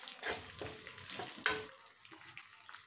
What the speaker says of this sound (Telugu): ఇప్పుడే కరివేపాకు కూడా వేస్తున్నా. ఎండుమిర్చి కూడా వేసాను.